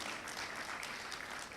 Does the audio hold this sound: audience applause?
yes